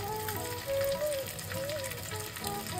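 Asafoetida hits hot oil in a clay pot for new-potato aloo dum, giving a steady soft sizzle that runs throughout at low volume with a faint tonal whine in the background.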